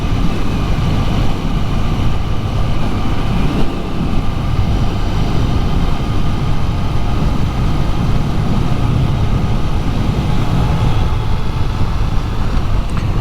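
A 2004 Triumph Bonneville carbureted motorcycle engine running in cold weather, a loud, close, continuous low rumble with a steady throbbing texture and no pauses, heard alone without talking.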